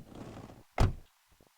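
A car door in a quiet scene gives a single close, solid thunk after a short low rustle, followed by a couple of faint clicks.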